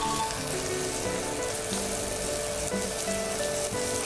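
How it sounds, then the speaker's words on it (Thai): Garlic, pepper, coriander root and shallot stir-fry in rice bran oil in a pan, giving a steady, close, continuous sizzle with faint stirring throughout. "ตั้งกระทะ เปิดเตา ใส่น้ำมันลำข้าว กระเทียม พริกไทยรากผักชีหอมแดง ผัดให้ทุกอย่างหอมเข้ากันค่ะ"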